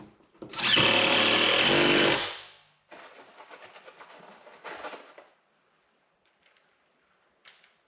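Power drill driving screws into a plywood wall, one loud sustained whirring run of about two seconds, then fainter shorter bursts of drilling and scattered clicks.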